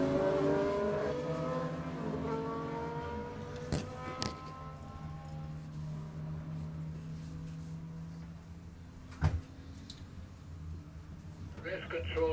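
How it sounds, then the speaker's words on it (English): Superbike race motorcycles at Kirkistown pull away on a warm-up lap, their engines droning and fading into the distance while a commentator talks over them; brief clunks punctuate the noise. "So the machine's away for their warm-up lap now."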